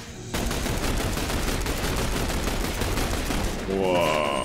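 Sustained rapid gunfire rattles nonstop at a turret in The Bureau: XCOM Declassified, a loud dense volley of shots lasting several seconds with no pauses.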